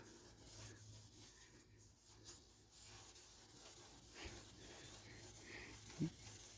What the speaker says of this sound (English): Quad Zero steel wool, but I like to crush it and run my finger along the top of the trim like this